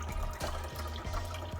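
Bottled water pouring steadily into the reservoir of a Keurig coffee maker during descaling, a continuous close gurgling stream with faint rhythmic glugs from the bottle.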